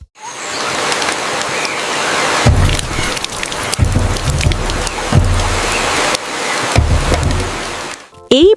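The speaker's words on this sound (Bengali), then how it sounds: "জঙ্গলে নামলো বৃষ্টি।" Cartoon-style rain pours down in a jungle, a dense steady hiss of falling drops with low rumbling swells, ending in a short bright sound effect.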